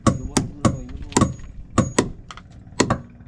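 Sharp hammer blows on wood, about seven or eight distinct thwacks at an uneven pace, close and loud, with faint background noise between strikes.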